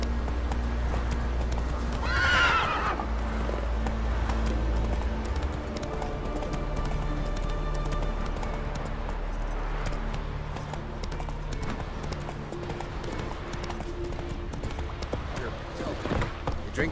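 Geralt's horse Roach trots in The Witcher 3, a steady, close clip-clop of hooves with a whinny early on, over an ambient game backdrop with voices talking.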